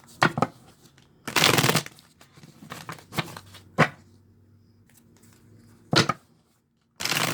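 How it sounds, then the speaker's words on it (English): Tarot cards being shuffled by hand in several short riffling bursts separated by quiet pauses, close and crisp, with no talk. "So I'll just give each of these a little bit of a shuffle."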